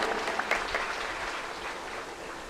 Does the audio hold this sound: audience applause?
yes